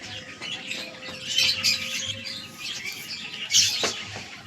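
Household pigeons circling over nearby rooftops give scattered squawks and short chirps at moderate distance, rising in a couple of brief bursts over quiet background.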